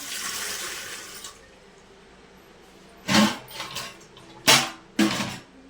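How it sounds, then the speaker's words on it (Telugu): Water is poured into a metal idli steamer in a home kitchen: a steady, fairly loud rushing pour for about a second, followed by a few sharp, separate metallic clatters. "వాటర్ అయితే పోస్తున్నాం."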